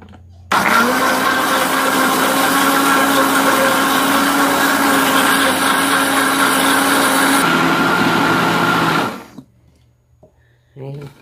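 A kitchen blender whirs steadily while blending hibiscus for jelly, a loud, even motor drone with a slight pitch shift partway through, then cutting off abruptly; a person talks over it.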